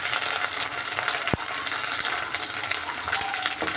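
Beans curry frying in a pan gives a steady, even sizzling hiss throughout, with one brief sharp click partway through.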